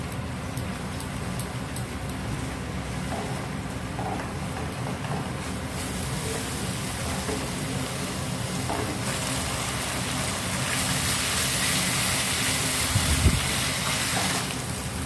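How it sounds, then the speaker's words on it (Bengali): Spices, sugar and other ingredients for chicken changezi sizzle steadily in a pan while being sautéed, a continuous frying hiss that grows louder and brighter partway through. "এবার এই সমস্ত উপকরণগুলোকে ভালো মতো কষিয়ে নেব।"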